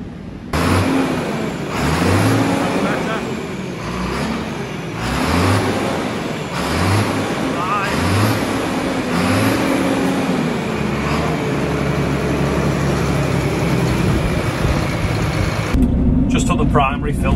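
A farm tractor's diesel engine runs steadily after its fuel filter was cleaned of water and algae, a loud close drone with rising and falling revs that ends abruptly.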